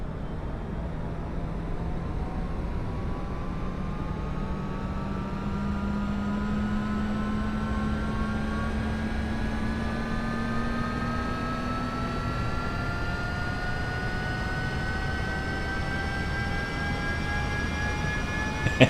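A business jet engine starts up in Microsoft Flight Simulator 2024, a steady roar joined by whining tones that climb slowly and evenly as it spools toward idle over nearly twenty seconds.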